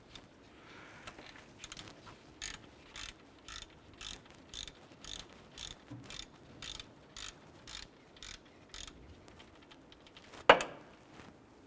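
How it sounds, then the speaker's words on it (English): A ratchet with a 14mm socket clicks in about fifteen short, regular bursts while loosening the upper alternator pivot bolt on a 2001-2005 Honda Civic, ending in a sharp metallic clank. "Using a 14mm socket and ratchet, we're going to go ahead and loosen the upper pivot bolt on our alternator."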